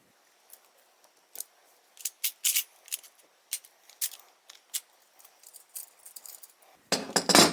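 A PM63 semi-automatic pistol being taken apart by hand, sparse sharp metallic clicks and clacks of parts shifting, close in a quiet room, ending in a denser burst of rattling handling noise.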